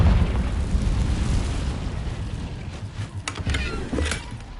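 Casting Confringo in Hogwarts Legacy brings a loud fiery explosion, a broad roaring rumble that tapers down, followed by a few sharp crackling bursts near the end.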